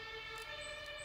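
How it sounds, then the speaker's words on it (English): An ambulance siren wails in the distance with steady sustained tones, faint and alone for about a second. "Another ambulance"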